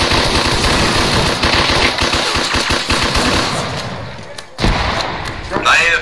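Sustained machine gun fire from a video game pours onto a village in rapid, loud bursts. It cuts out briefly near the end before resuming, with voices talking over the shooting.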